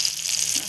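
Chivani fish fry in a pan with a brief, steady, close sizzle, a continuous bright hiss without voices.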